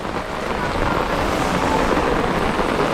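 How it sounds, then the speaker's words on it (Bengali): Dense, roaring rush of heavy rain, loud and continuous, blended with wind buffeting the microphone. "বাবা খুব বৃষ্টি নেমেছে"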